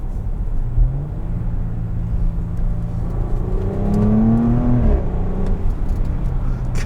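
A 2019 Porsche Cayenne S accelerating, heard from inside the cabin as a steady engine hum whose pitch climbs through a strong rev build before easing off.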